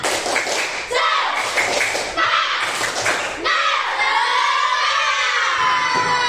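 A class of primary schoolchildren performs a rhythmic spirit clap, loud bursts of patterned clapping and shouting in a reverberant room, broken by short pauses between rounds.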